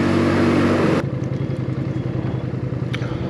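A Suzuki Intruder 125 motorcycle engine while riding: a loud, close, humming drone at first, then a lower, rhythmic chugging under a wash of wind noise.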